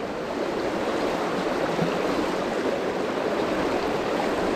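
River water pouring steadily over a concrete weir at the tail of a pool, a continuous broadband rush close by with no voices.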